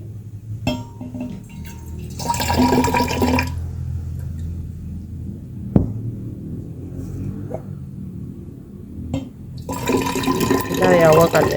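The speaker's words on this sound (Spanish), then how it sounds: "Ahora voy a mezclar la taza de agua fría" Cold water poured from a cup into a cup of hot water during a simple temperature-mixing experiment, two close splashing pours separated by quiet stretches, with a voice speaking in between.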